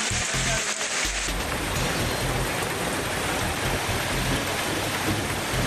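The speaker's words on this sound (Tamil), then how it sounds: "நாகை மாவட்டம் வேதாரண்யம் சுற்றுவட்டார பகுதிகளில் இடி மின்னலுடன் பரவலாக மழை பெய்தது." Steady heavy rain pours during a night thunderstorm around Vedaranyam in Nagapattinam district, a dense constant hiss that fills the whole stretch, with a low rumble near the start and no voices.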